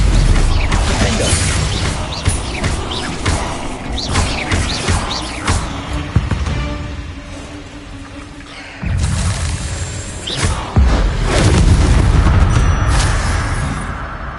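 Bombarda and Confringo spells blasting in Hogwarts Legacy: a dense run of heavy booms and crashing impacts through a battle with spider sacks, loud and continuous, with a sharper burst of explosions near the end.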